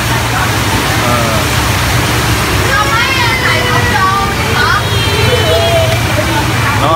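Heavy rain pours steadily on a street in old Saigon, a dense, even hiss that does not let up, while people talk and call out over it.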